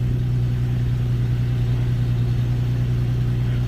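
An Infiniti G37 engine runs after a throttle body cleaning, holding a steady, close idle-like hum with a strong low drone and no clear rise or fall in revs.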